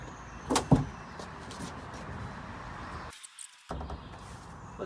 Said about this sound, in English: We're gonna pop open this door here.